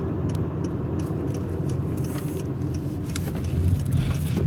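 Inside a car pulling over on a quiet road in Georgia, the engine hums as a low, steady rumble, moderately quiet, with faint rattles and clicks on top and no talking.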